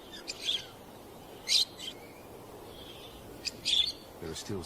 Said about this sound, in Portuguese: Periquitos se abrigam na sombra das rochas.